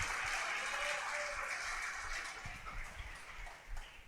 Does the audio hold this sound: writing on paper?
no